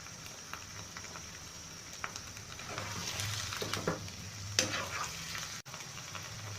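Onion slices and capsicum frying with chicken in a pan give a soft, steady sizzle with scattered crackles and a few stirring clicks, fairly quiet throughout.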